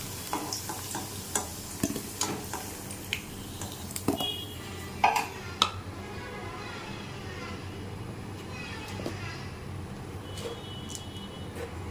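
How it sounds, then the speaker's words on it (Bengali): Sugar tipped into hot oil for a chicken curry, a low continuous sizzle with utensil taps and clinks against the pan early on, then settling into steady frying noise. "এবার গরম তেলের মধ্যে দিয়ে দিলাম সামান্য পরিমাণ চিনি"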